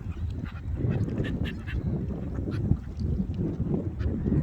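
Ducks quack in a busy, overlapping chorus close by, with low rumbling wind noise underneath.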